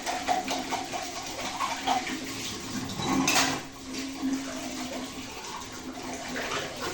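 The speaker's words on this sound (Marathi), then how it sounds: "आता घासत आहे मी ते भांडे" Pots are scrubbed and rinsed under running tap water at a home sink, with steady gushing water, clinking metal vessels and a brief louder splash midway.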